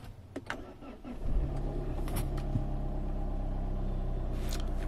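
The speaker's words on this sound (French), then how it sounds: "Donc je vais démarrer la voiture, je vais la laisser chauffer un petit peu" Mazda 6 GH car engine cranking briefly with a starter whir, catching, then settling into a steady low idle rumble while warming up, close and constant after a few faint clicks beforehand.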